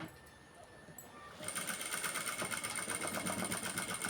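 A sewing machine stitching a designer blouse starts up after a quiet moment of faint background noise, then runs continuously with a fast, even mechanical chatter, close and moderately loud.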